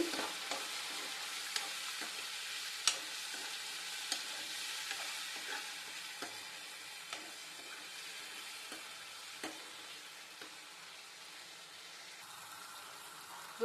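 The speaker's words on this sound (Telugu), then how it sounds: "ఈ అల్లం వెల్లుల్లి పేస్ట్ అనేది పచ్చి వాసన పోయేదాకా బాగా వేయించుకోవాలి" Ginger garlic paste fries in a pan for gongura chicken, giving a steady close sizzle broken by regular light scrapes and clicks of stirring, with no talking.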